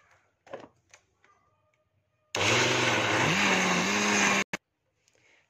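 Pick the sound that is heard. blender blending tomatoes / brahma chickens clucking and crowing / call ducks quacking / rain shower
blender blending tomatoes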